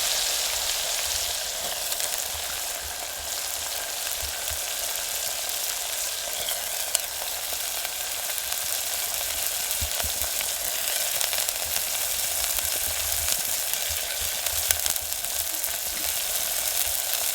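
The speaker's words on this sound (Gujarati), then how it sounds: "અને હવે નાખી દઈએ આપણે આ ડુંગળીનો વઘાર." Onion fries in oil for a tempering, a steady, close, continuous sizzle and crackle with faint stirring scrapes and no talk.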